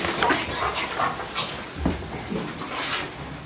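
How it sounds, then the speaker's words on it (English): A dog whimpers and whines softly at a county commissioners meeting, thin high cries repeating in short bursts over quiet room noise, with no talk. "This dog needs a walk."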